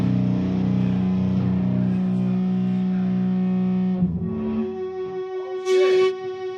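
Electric guitar through a distortion and feedback pedal sustains a thick, heavily distorted buzzing tone, then shifts into ringing feedback-like notes and wavering overtones.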